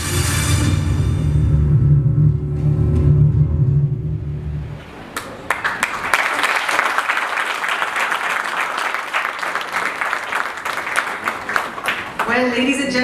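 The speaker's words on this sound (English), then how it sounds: "Keep that applause going." Audience at an Orient Electric smart-home product launch bursts into loud, sustained applause with scattered sharp claps, following a stretch of swelling music and rumble that fades out first.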